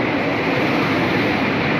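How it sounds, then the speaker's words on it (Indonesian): Steady, loud rumble of a passing KRL electric commuter train in Jakarta, a continuous broadband roar with no pauses, heard up close. "Oke, ini adalah KRL-nya."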